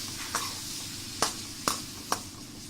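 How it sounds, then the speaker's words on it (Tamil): Garlic cloves and onions cook in oil with a faint, low sizzle, broken by three or four quick, sharp scrapes of a spoon against the pan. "அது நல்லா எண்ணெயில் வதங்கட்டும்."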